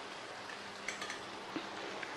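Rice is stirred into fried egg biryani masala in a pan, soft sizzling with light scraping and a few spoon taps against the pan, quiet and close.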